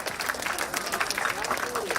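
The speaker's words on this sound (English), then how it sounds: "Round of applause." Audience applause breaks out after a devotional Ganesha chant performance at a live-streamed cultural event, a steady dense wash of clapping with voices mixed in throughout.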